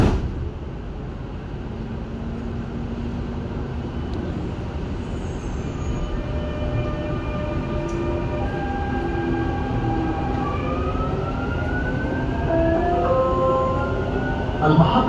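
A Dubai Metro train runs steadily along the line, with a continuous rumbling roar and rising whining motor tones that swell louder toward the end.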